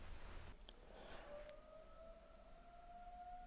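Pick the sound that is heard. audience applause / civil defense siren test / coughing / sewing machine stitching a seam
civil defense siren test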